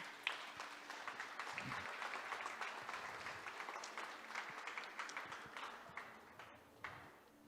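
Church congregation applauding during a service, a steady, moderately distant patter of many hands clapping throughout, with faint voices mixed in.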